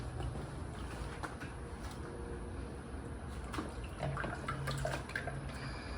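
Motor oil is poured into the engine of a 2015 Mazda CX-5, making a soft, continuous liquid trickle with faint splashes. It stays quiet throughout and swells slightly near the end.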